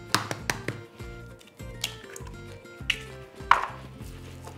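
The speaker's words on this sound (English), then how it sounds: "into that I'm gonna crack 3 eggs" Three eggs are cracked into a bowl of vegetable oil for parsnip and blackberry cake batter, a few sharp taps and clicks over a soft background of music.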